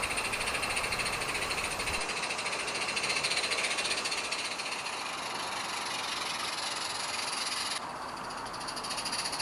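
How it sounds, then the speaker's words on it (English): An Aireside Railway engine works a train through the crossover onto a short wrong-way section: a steady, loud broad hiss and rumble runs throughout, easing slightly near the end. "now the engine has to work hard to bring the train up the incline"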